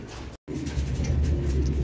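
A pigeon in a loft coos low and steadily, its soft throaty murmur running almost continuously over a noisy background, broken by a brief gap.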